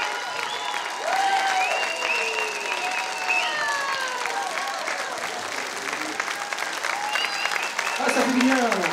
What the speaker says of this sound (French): À l'arrivée, c'est tout son village qui l'acclame.